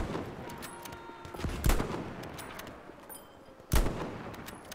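Gunfire in the World War II shooter Battlefield 5 aimed at enemy planes, with two sharp shots standing out above a steady low rumble of distant battle noise.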